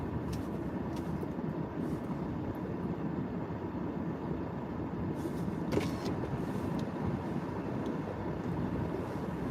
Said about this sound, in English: Definitely a weekend traffic here.